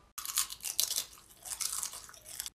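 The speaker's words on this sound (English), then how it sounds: "Can you stop chewing so goddamn loud?" Crunchy chips are chewed loudly and up close, a continuous run of crisp, crackling bites and munching that lasts about two seconds.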